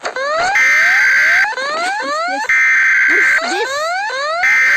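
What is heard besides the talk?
Ecuador EAS emergency alert alarm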